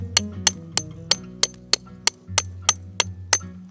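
Tent stakes for a Zane Arts Zeku-M tipi-style tent are hammered into the ground, about a dozen crisp metallic strikes at a steady beat, close by, over a faint low hum.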